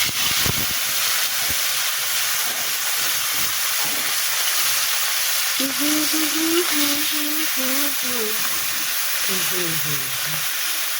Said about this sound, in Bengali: মাছটা দিব চুলাতে।